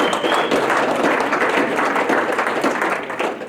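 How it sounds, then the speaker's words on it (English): Loud, dense applause fills the room at a hall of fame ceremony, a crowd clapping steadily and fading slightly toward the end. "Let's give all of them a round of applause for another great year of work."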